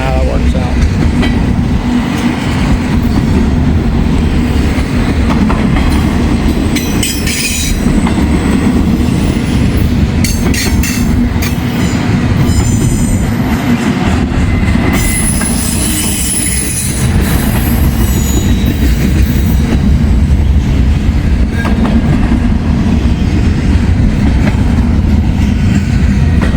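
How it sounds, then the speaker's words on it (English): A freight train hauling FedEx containers rolls past at close range, a loud continuous rumble with clattering wheels and bursts of high squealing throughout. "This is the shortest train we've had all day."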